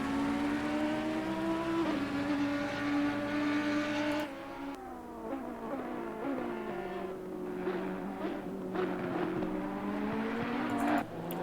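Race cars on a circuit during a race, with steady engine drones shifting pitch as cars accelerate and pass, several overlapping motors audible throughout at a moderate distance.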